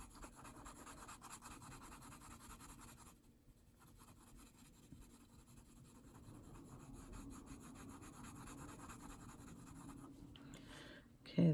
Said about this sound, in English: It's very light pencil work there.